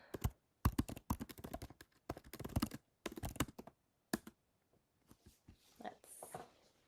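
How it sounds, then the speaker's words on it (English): Computer keyboard typing comes in quick bursts of clicky keystrokes, close and fairly crisp, with a voice talking over the first part and sparser, lighter taps toward the end. "typing is so great"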